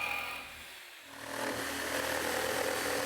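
An Einhell reciprocating saw runs continuously with a buzzing, rattling motor and cutting noise, dipping briefly before resuming steadily up close, with no talking.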